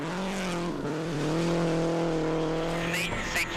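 Chris Atkinson's Subaru rally car, pushed hard on a 2006 Australian WRC stage, roars at high revs with rising and falling engine tones that stay loud and close throughout, with a brief tyre or gravel scrabble near the end.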